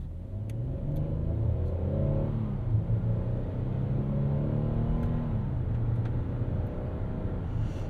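A 2024 Hyundai Palisade with a V6 drives on the highway, its engine droning steadily inside the cabin. The pitch climbs and falls in gentle waves as it accelerates, over continuous road rumble with no voices.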